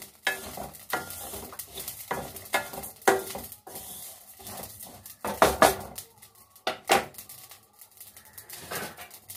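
Food and cumin seeds frying in a pan, an irregular run of sizzling bursts and stirring scrapes, close and moderately quiet, without talking.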